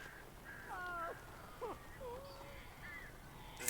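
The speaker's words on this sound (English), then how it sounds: "That is a lot of crows." Crows cawing in the Alan Wake video game, several scattered harsh calls at a distance over a faint outdoor ambience.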